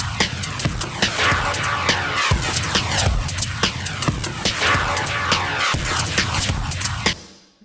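Drum loop processed with a phasing technique, dense swirling wash over a steady thumping beat with smeared cymbals and a throbbing, sweeping texture, continuous until a quick fade near the end.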